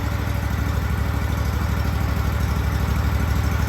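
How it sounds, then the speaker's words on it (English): A 22-year-old Walker MTGHS mower with an air-cooled engine idles steadily, a loud, even, close-up chugging with a constant low pulse and no voices. "This mower runs really good."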